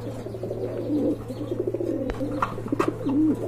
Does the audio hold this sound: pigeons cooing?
yes